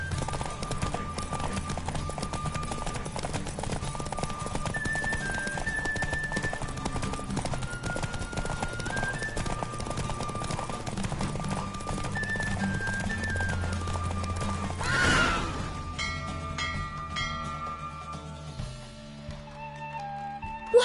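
Galloping horse hooves pound in a steady, rapid clip-clop during a race in The Witcher 3, layered over game music with a brief swell and a neigh-like burst near the end.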